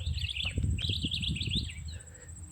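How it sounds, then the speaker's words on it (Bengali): Wild birds call near ancient baobab trees in Zanzibar: a string of bright, high chirps and warbling notes rises over a low rumble of wind and handling noise, then fades near the end. "এখন আমি আপনাকে অর্থাৎ আপনাদেরকে প্রকৃতির কিছু আওয়াজ শোনাবো পাখিগুলো যে কই আওয়াজ করে"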